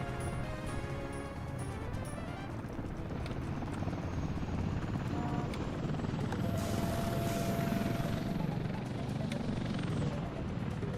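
Helicopters in the video game W&R, a continuous droning rotor roar that holds steady throughout, with faint tones and someone speaking lightly underneath.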